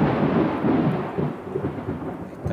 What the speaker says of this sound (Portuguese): Tá trovejando o tempo.